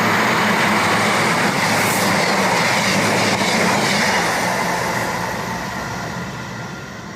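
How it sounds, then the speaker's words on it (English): A train arrives at Urmston Station, its loud, steady rolling roar and rumbling wheels dominating before slowly easing off as it draws in. "A train's coming."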